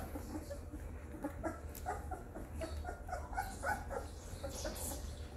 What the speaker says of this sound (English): starting to bark